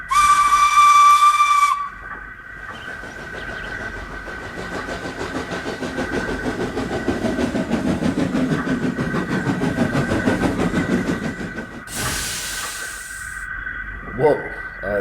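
An old steam engine in a cartoon gives a loud whistle blast and then a steady hissing, chuffing run, followed by a second sharp burst of steam about twelve seconds in.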